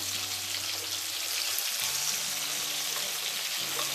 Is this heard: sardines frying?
yes